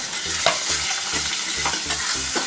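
Curry leaves and vegetables frying in a pan for sambhar, a steady loud sizzle with a regular rhythm of stirring scrapes, about six strokes, heard alone without talk.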